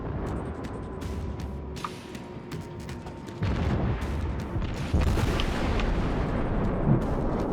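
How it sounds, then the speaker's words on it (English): High-explosive broadside salvos from a warship in World of Warships, a dense roll of booming artillery fire with rumbling blasts that swells louder partway through, continuous and close. "Let's put a good HE broadside into him."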